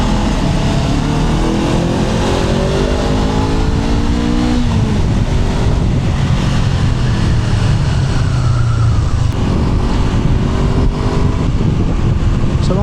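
A Honda CL500 scrambler motorcycle engine drones and revs steadily as it rides through a tunnel, its pitch rising and shifting through gears with a loud, continuous, echoing roar and no talking.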